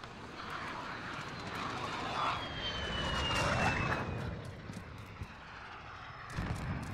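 VTOL aircraft engine in a military video game, a moderate droning roar that swells and fades, with a sweeping whine, short clicks and distant game effects over it.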